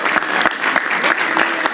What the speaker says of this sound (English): I hope we'll have long and sustained applause.